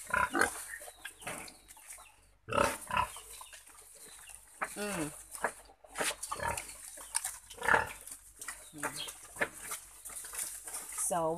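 Four pigs in a farm pen grunt and squeal repeatedly at close range while chickens cluck in the background.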